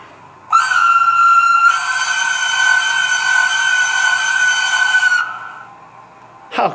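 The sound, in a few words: model locomotive whistle sound effect, Roco Swiss mountain locomotive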